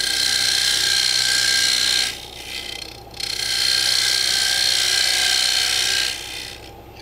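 Wood lathe turning a Roman-style canteen while a tool cuts a dovetail inside its lip: a continuous bright scraping hiss runs throughout, briefly dipping twice as the cut lightens, with no talk.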